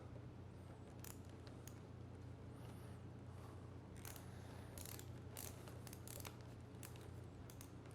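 A ratcheting tool tightens the fourth bolt on a Ride snowboard binding, quiet close clicking in short bursts of rapid ratchet strokes separated by brief pauses.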